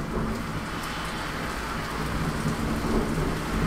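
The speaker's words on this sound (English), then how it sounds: "It started raining hella hard" Heavy, steady rain pours down in a dense continuous roar, with a low rumble underneath suggesting distant thunder.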